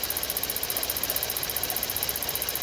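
A GMC Acadia with a suspected faulty high-pressure fuel pump idles close by, giving a steady engine hum with a fast, even ticking pulse and no voices.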